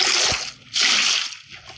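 Water in the Minecraft video game plays two short, bright splashes, one after another, each a hissy burst of liquid, with a soft low thump under the first.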